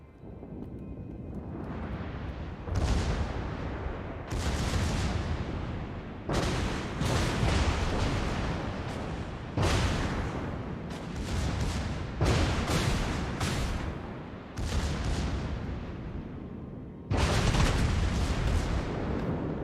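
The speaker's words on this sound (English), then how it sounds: "This Alsace is firing HE, but should be firing AP actually." Battleship Alsace firing high-explosive shells in a naval combat video game, a series of loud booming salvos roughly every two seconds, each a heavy broadband blast with rumbling tails, close and dominant with no talk.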